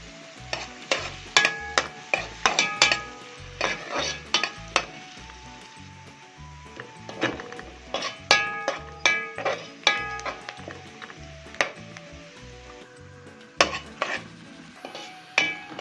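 Onion frying in a pan for a baked fish tray dish, a soft continuous sizzle beneath frequent sharp clinks and scrapes of a metal spoon stirring against the pan in irregular bursts, close up and without talk.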